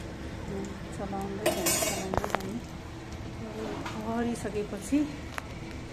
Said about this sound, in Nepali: सबै चलाउँदै जाने